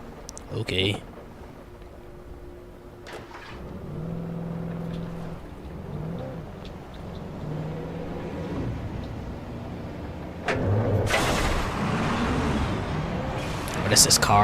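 Game-like vehicle engine drones and hums under a voice talking, with rising and falling tones, then a louder rushing burst near the end.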